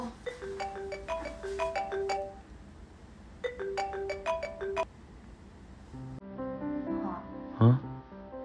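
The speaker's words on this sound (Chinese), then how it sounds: "秋香，你电话响了" A mobile phone ringtone plays as repeated bright melodic bursts, pausing and then sounding again before it cuts off, followed by softer tonal music and a voice talking.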